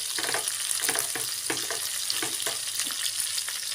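Sliced onions sizzle and hiss steadily in a hot oiled pan for shark curry, with a few scraping stirs breaking through the continuous frying crackle.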